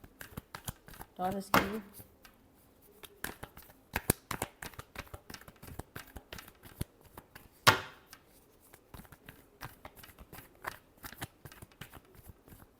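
Tarot cards are shuffled in a Taurus love reading with sharp riffling bursts and scattered light taps, close by, while someone talks briefly over them.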